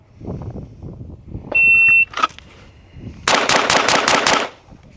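SIG Sauer P322 .22 pistol firing six rounds in quick succession on a shooting range, loud and close, preceded by an electronic timer beep.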